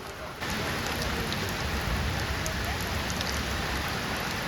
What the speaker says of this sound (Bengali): বৃষ্টি পড়ছিল রে।